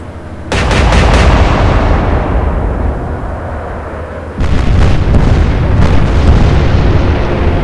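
Warship guns fire a salvo in an Atlantic Fleet naval battle set at Jutland, loud close booms with a long rumbling roll, then a second heavy blast a few seconds later with crackling reports.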